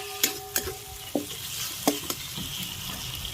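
Ginger-garlic paste and chopped tomato sizzle in a hot pan, a soft steady fry punctuated by several sharp clinks and scrapes of a spoon stirring against the metal.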